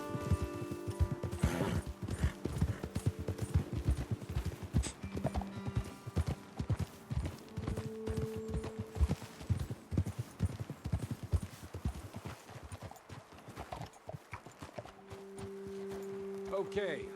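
A horse walks along steadily while ridden in the video game Red Dead Redemption 2, its hooves clip-clopping in an unbroken rhythm. Voices talk over the hoofbeats throughout, with a faint whinny early on.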